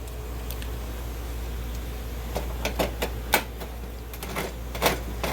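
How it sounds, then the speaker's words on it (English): A handheld can opener cutting open a can in a home kitchen, a run of sharp metallic clicks and crunches growing denser over a steady low hum, close and without talk. "We go the old school way where you use the handheld can opener."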